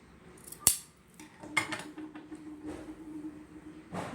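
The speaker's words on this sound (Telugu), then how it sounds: "ఈ మెయిన్ పార్ట్కు నెక్కు మధ్యలో ఒక కట్ ఇట్లా ఇచ్చుకోవాలి" Scissors cutting blouse fabric for a designer back neck, with one sharp close snip followed by softer fabric snips and rustling over a faint background hum; no one speaks.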